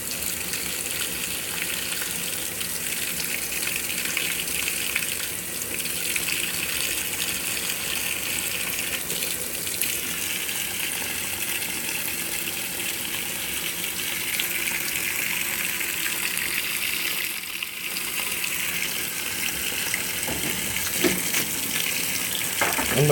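A GE GTW680BS6JWS top-load washing machine filling with water on a delicate cycle: a steady, even rush of inflowing water that holds a constant level throughout, with no talking.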